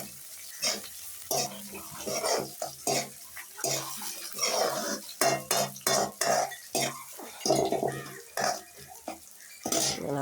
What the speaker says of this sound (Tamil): 2 நட்டி கருவேப்பிலை எடுத்து அதையும் நாங்கள் இதோடு சேர்த்து வதக்கி கொள்ளுவோம்